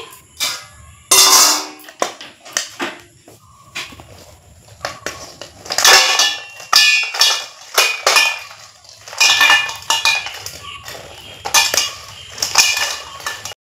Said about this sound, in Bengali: চিনির ক্যারামেলটা হওয়ার পরে গ্যাসটা অফ করে দিয়ে তবেই কিন্তু আমি এই মরুলিটা এইভাবে নাড়াচাড়া করে নিচ্ছি